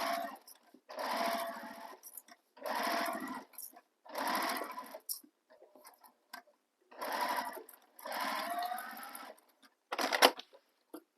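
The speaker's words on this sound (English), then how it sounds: "we're going to stitch this with the seam allowance given in the pattern" A sewing machine stitches a handbag seam in six or so steady, close bursts of rapid whirring needle strokes, each a second or two long, separated by short pauses, with no talking.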